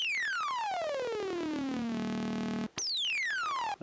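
A Roland SE-02 analog synthesizer with oscillator sync sweeps a bright, harmonically rich tone downward, its overtones gliding and shifting, then settles briefly, cuts out and restarts with another descending sweep.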